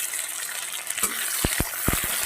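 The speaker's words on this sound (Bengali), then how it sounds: "এটা একটু ভেজে নেব আগে" Green chili and tomato fry in a kadai with a steady, fairly loud sizzle, and several quick spatula scrapes break through near the end; no one speaks.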